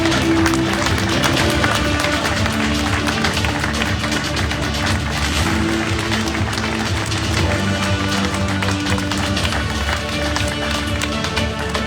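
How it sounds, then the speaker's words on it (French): A studio audience applauds a contestant, Sarah from Moselle, at a pageant-style presentation, steady dense clapping running throughout at a loud level with a faint murmur of voices beneath. "Je vous demanderai de l'applaudir."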